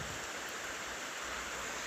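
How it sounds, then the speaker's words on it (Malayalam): Heavy rain with wind pours down outdoors during a Kerala downpour, a steady broadband hiss with no distinct drops, uniform and fairly soft, with no voices. "ഇവിടെ നല്ല മഴയാണേ."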